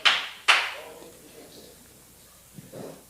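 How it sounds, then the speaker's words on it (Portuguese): Church congregation applauding in brief bursts: two sharp clap-like onsets at the start, then softer scattered sound and faint voices. "Vamos aplaudir a Jesus mais uma vez."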